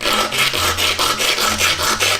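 Rapid, rhythmic back-and-forth scraping of coarse sandpaper on a tooth, close and steady, about eight strokes with no voices.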